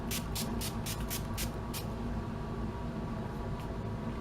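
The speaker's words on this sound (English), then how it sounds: "So I'm going to go in with the Dewy Finish spray and spray that all over my face." Dewy Finish setting spray misted onto a face, several quick hissing bursts in a row over the first second and a half, then fading to a low steady background.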